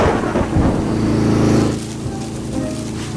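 Thunder from lightning during a storm rolls as a loud, broad rumble for about a second and a half, then drops to a quieter, steady background, with no talk over it.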